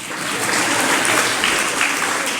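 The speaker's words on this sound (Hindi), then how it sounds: "बजा लो ताली पहले।" An audience claps steadily at a religious discourse, a dense, even wash of applause with no voices over it.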